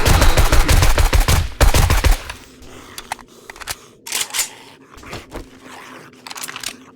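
AK rifle gunfire from the 7 Days to Die shooter game, aimed at feral zombies in a burnt forest: a loud, rapid automatic burst of shots for about two seconds, then a few scattered single cracks and clatters.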